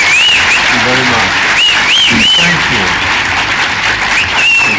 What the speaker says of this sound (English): Can we start with a big, robust round of applause for the one and only Stephen Fry?